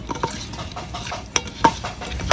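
Raw fish being rubbed and mixed by hand with salt and turmeric powder, giving soft wet squelching and light patting touches in brief irregular bursts, close and fairly quiet, with no talking.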